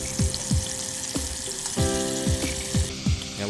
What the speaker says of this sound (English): I'm gonna put some oil in a pot so we can begin browning the meat.